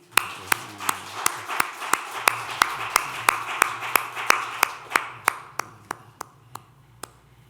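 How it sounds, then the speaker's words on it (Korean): A church congregation gives a welcoming round of applause for a newcomer at a Sunday worship service: steady, evenly spaced claps form a clear rhythm that gradually softens, with faint low background hum. "우리 이현미님 우리 환영합니다 하는 박수 한번"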